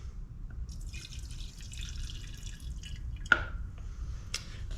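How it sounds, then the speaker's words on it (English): Fuel is poured back into the tank of a Poulan 2150 chainsaw, a soft trickling and dribbling of liquid with a sharper drip or splash near the end, quiet and close. "I'm going to pour the fuel back in."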